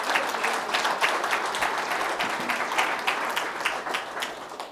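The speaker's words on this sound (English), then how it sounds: "let's all give them a round of applause for being here today" Audience applause at a dairy farm event in Goodridge, Minnesota, a steady wash of many hands clapping for several seconds, fairly loud and even, gently tapering toward the end with no talk over it.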